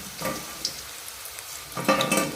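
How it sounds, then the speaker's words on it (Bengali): Paneer and nuts fry in a pan with a broad hiss and a few stirring scrapes, the sizzle swelling louder toward the end; no one speaks. "আর তারপরে বাদামগুলো ভেজে নেবে"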